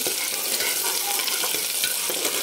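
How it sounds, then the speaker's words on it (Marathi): Chopped onion frying in hot oil until golden, giving a steady, close crackling sizzle with faint stirring scrapes throughout, no voices. "तर आता तेल गरम झाल्यानंतर आपण एक कांदा घेतलेला आहे अर्धी वाटी, तो आपण टाकून चांगला सोनेरी कलरवर एकदम छान परतून घेऊ"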